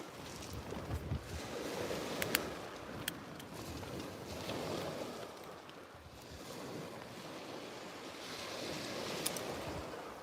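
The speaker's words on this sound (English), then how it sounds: "There's a bit of wind, quite a lot of wind." Strong wind roars steadily across a Selsey seashore during a fishing session, with surf washing in underneath and gusts swelling and easing throughout, joined by a few brief knocks.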